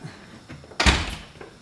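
A single door thuds shut nearby in a home kitchen, a loud short slam after quiet room tone, with a brief rattle as it settles.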